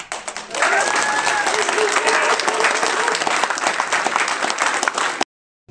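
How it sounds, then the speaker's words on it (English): Loud, sustained applause from the crowd at a Veterans for Peace national convention in Las Vegas, breaking out after a brief pause and ending abruptly, with a few voices calling out early on. "Huge round of applause."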